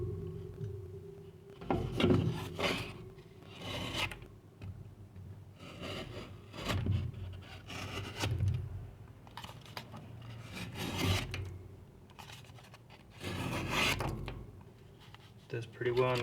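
A vintage Gerlach Polish Navy rope knife test-slices cardboard, making intermittent scraping, rasping cuts in short bursts spread across the stretch, fairly quiet and close.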